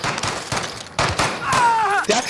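Gunfire from a shotgun in the shooter game Call of Duty: Modern Warfare, several sharp loud blasts in quick succession with a rising whine and crunchy impacts, close and punchy.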